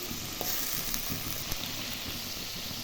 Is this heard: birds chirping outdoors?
no